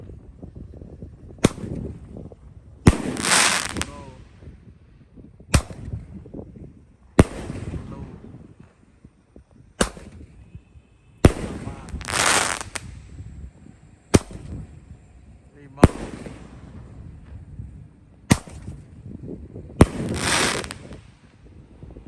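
Roman candle fireworks of size 1.2 fire in a steady series of sharp pops, roughly every two seconds over about twenty seconds, with some louder bursts that hiss and crackle briefly. They ring out close and loud in the open air at dusk.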